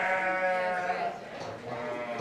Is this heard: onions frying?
no